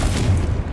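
A Confringo fire-blast spell in Hogwarts Legacy lands as one short, heavy boom with a dense low-end thump, loud and close.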